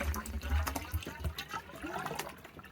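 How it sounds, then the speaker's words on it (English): Water is poured into a pool pump while it is primed at pool opening, a close, splashing, gurgling pour that runs continuously, with faint voices mixed in. "Pour the water in."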